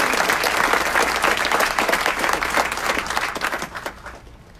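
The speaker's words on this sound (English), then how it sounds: "Another round of applause for Sergeant Robert." Loud, dense applause from a sizable audience at a city council meeting, steady for several seconds before tapering off toward the end.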